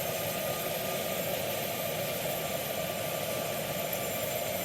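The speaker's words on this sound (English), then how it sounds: "we still have like another 4 to 5 minutes of taxiing" An airliner's engines idle as the plane taxis toward the gate after landing, a steady, dense rumble and whine heard from inside the cabin, continuous and unchanging with no voices.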